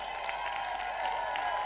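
Applause for elected women ward representatives at the UDA Women Congress at Bomas of Kenya in Nairobi: steady crowd clapping in a large hall, even and sustained, with a constant hum underneath.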